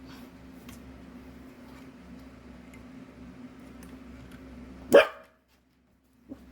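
A single sharp dog bark rings out loud and close indoors, rising briefly out of a steady low hum and ticking room noise, then a short quiet follows with one faint knock.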